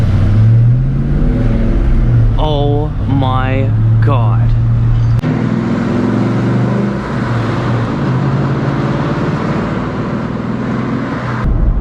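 Ford Mustang Cobra fitted with a Flowmaster 40 Series exhaust, revving loudly up close with a deep, steady rumble that surges and settles; people exclaim over it early on.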